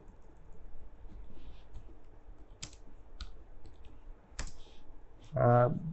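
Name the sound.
typing on a computer keyboard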